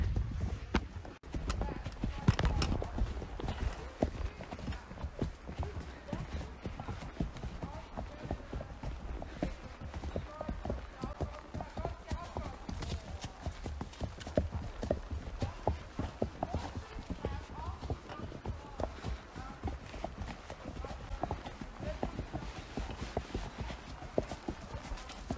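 Friesian horses walk along a forest trail, their hooves clip-clopping in a steady, irregular patter throughout. People chat over the hoofbeats.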